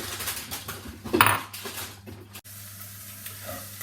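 Chopped onions tipped into hot oil in a pan: a sharp clatter of utensil on metal, then a quieter sizzle that fades toward the end, heard close with no talking.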